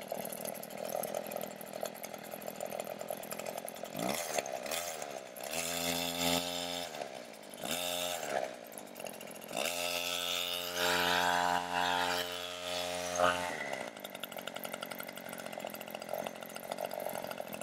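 A Wild Badger 16-inch 40V electric chainsaw whines at high pitch, revving up and down in bursts of cutting with short dips between, close and fairly loud with no talk.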